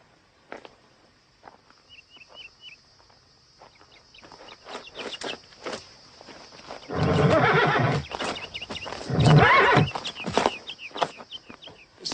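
A horse in an Old West setting whinnies loudly twice over soft clip-clopping hooves, with chickens clucking faintly in the background between the calls.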